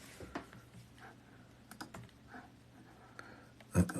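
Someone types on a computer keyboard in a quiet room, with scattered light key clicks at an uneven pace and a louder cluster of presses near the end, no talking.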